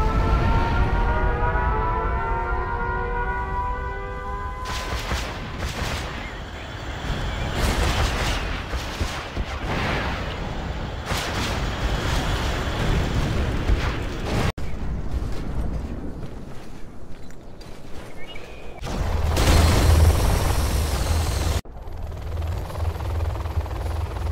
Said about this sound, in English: We have launched our Select nuclear missile.